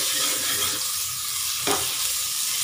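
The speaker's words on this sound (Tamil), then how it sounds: "வெங்காயம் வந்து இப்போ நல்லா வதங்கணுங்க" Plenty of onions sautéing in a pan for mutton paya, a steady close sizzle with one quick stirring scrape partway through.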